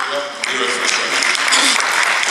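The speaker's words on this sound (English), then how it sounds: "let's clap for Australia" Group at a press conference claps in a dense burst of crisp hand claps, with a voice speaking briefly at the start underneath.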